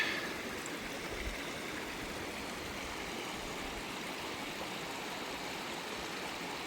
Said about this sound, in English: right by the Cliff Creek, Hamilton Creek falls there